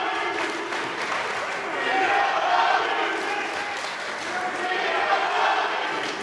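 A wrestling crowd at a live show roars and murmurs in a sustained, rolling wash of voices that swells and dips, loud and reverberant throughout.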